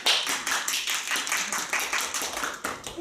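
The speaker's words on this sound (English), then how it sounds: "along with our applauding" Members at a Toastmasters club meeting applaud, a moderate, fairly quiet patter of hand claps from a small group, steady across the few seconds.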